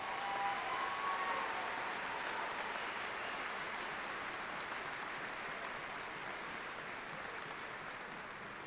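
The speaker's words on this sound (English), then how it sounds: "Please give these individuals and crews a round of applause." Graduation crowd at a high school ceremony applauding its teachers and staff, a steady broad wash of many hands clapping that fades slightly over the clip, heard at a distance in a large hall.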